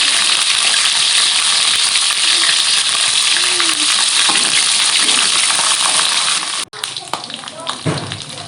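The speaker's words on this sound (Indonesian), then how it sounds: "Goreng bawang merah, sudah kita haluskan. Ceri, daun kari, daun salam sampai harum." Ground shallots sizzle and fry steadily in hot oil with curry leaves and bay leaves for Acehnese white-cooked beef, a loud continuous crackle that drops out briefly near the end before resuming more faintly.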